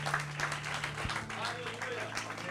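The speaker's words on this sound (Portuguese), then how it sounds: "Aplauda o Senhor Jesus. Mais forte, mais forte" A church congregation applauds and claps, a busy wash of hands under a sustained organ-like tone, with a voice speaking over it.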